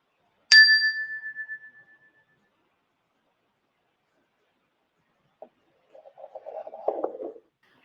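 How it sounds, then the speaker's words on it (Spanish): A single bell strike rings out clearly and decays over about a second and a half, followed by silence and then a brief low murmur. "vamos a terminar con el sonido de la campana"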